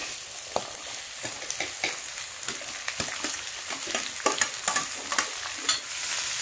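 Chopped shallots and onions fry in hot oil for a Kerala chicken curry, a steady close sizzle broken by repeated scraping and clattering strokes of a spoon stirring the pan, with no voices.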